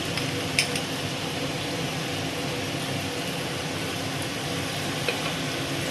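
Masala paste frying in hot oil in a clay pot for mutton curry, a steady, dense sizzle that runs without a break, with a couple of faint stirring clicks and no talking.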